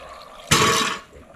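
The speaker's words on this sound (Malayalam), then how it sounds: "ഗ്രീൻ ബീൻസിൽ വെള്ളം ഒഴിക്കുന്നു" Water gushes for about half a second into green beans sitting in a pressure cooker, a loud, splashy pour that starts abruptly and then cuts off.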